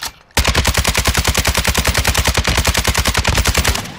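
Rapid automatic gunfire in a shooter video game, a steady loud burst of evenly spaced shots running without pause after a brief quiet start.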